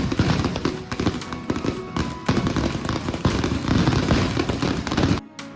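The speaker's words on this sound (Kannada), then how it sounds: "ಈ ಜಾತ್ರೆಯಲ್ಲಿ ಪ್ರಸಿದ್ಧ ಮದ್ದು ಗುಂಡಿನ ಸಿಡಿತ" Fireworks and firecrackers at a village temple fair go off in a dense, loud barrage of bangs and crackling bursts, overlapping almost continuously before stopping abruptly near the end.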